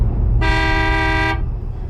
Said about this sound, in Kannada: ಡ್ರೈವರ್ ಹಾರ್ನ್ ಮಾಡ್ತಿದ್ದಾನೆ